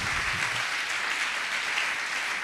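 A church congregation applauds and cheers together, a dense steady wash of clapping that fills the space without pause.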